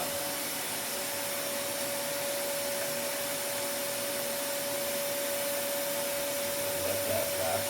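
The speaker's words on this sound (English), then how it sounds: "I'm going to keep that vacuum on there for a second." A vacuum forming machine's vacuum motor drones steadily and loudly with a constant whine, running alone throughout.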